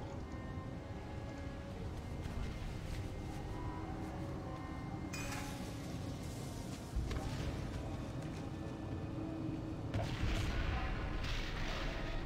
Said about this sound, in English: Just need to blow up each of these cannons.